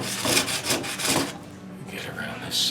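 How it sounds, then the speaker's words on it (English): Cloth-backed sandpaper rubs back and forth along a maple guitar neck in quick, rasping strokes, close up and fairly steady, with brief pauses between passes. "You definitely need cloth back because this will just shred your regular sandpaper."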